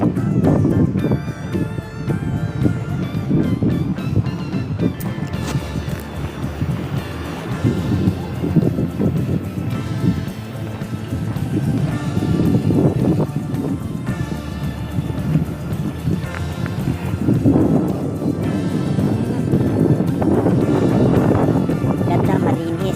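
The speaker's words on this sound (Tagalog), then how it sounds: "Mahangin, malamig." Strong, cold gusty wind at Borik Beach in Zadar, Croatia, on the Adriatic buffets the microphone in rolling surges throughout, with a person speaking intermittently underneath.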